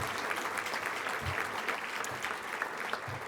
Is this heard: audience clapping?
yes